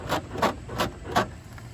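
A jerry-rigged car door handle while the door is locked, giving four evenly spaced squeaky scraping strokes, close and fairly faint, with no talk.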